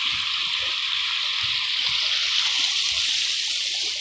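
Clear water flows at a sawmill site in winter, making a steady, even rush and trickle throughout, close and moderately loud, with no voices.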